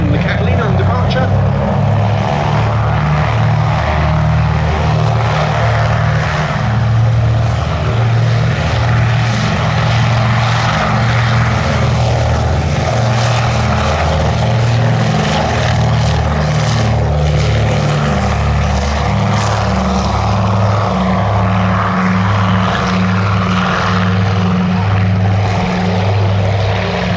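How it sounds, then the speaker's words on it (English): A Catalina flying boat departs at an airshow, its piston engines giving a loud, continuous throbbing drone with strong pulsing low tones. The roar holds steady and close, and a voice talks over it. "here goes Matt Dearden and crew in the Catalina on departure"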